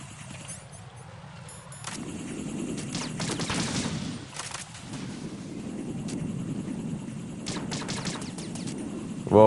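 Rapid bursts of gunfire and fusillade from the video game Metal Gear Solid 2, loud and dense, rolling in repeated volleys with a low rumbling body throughout.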